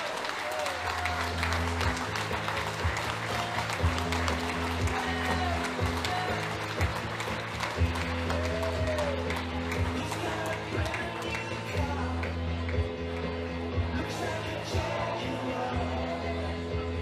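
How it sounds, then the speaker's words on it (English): A darts event audience applauds a finalist, with steady sustained clapping from a large crowd filling the room while an announcer talks over it and rhythmic walk-on music plays underneath. "we first ask for a massive round of applause for your finalist, Primetime Matthew Edgar."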